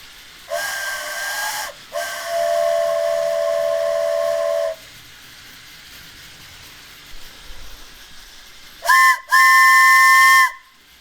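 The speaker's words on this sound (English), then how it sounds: "Our director actually brought one of these wooden carved train whistles" A wooden carved train whistle blown inside an old train station, two long breathy chord blasts, then a pause with faint room noise, then two shorter sharp blasts close by.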